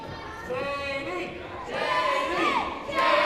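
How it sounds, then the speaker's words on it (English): A wrestling crowd cheers and shouts in rising waves, with voices calling out in a rowdy, building chant that grows louder toward the end. "This crowd here coming to life."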